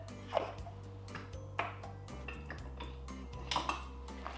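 Potato fries being tossed with smoked paprika and salt in a bowl, with a few sharp ringing clinks and scrapes of a utensil against the dish amid quiet rustling, close and with no talking.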